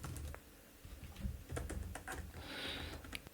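Computer keyboard arrow keys tapped in a quiet room, a faint scatter of soft clicks spaced irregularly over a few seconds, with no talking.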